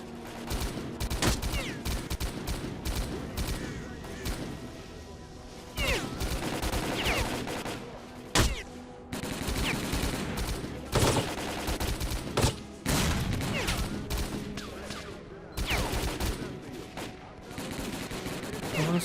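Sustained gunfire from the video game S.T.A.L.K.E.R.: Call of Pripyat, with dense bursts of automatic shots and sharp single cracks running nearly throughout, loud and close, with a player's voice breaking in at moments.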